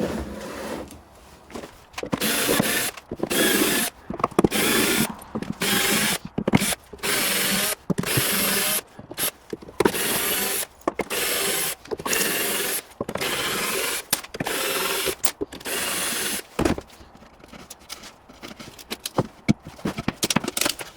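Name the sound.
unscrewing screws from a panel with a power drill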